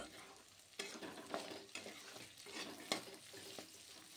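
Fried shrimp sauté in a pan with crushed garlic and onion, giving a soft, close sizzle and repeated rhythmic stirring scrapes of a spatula against the pan.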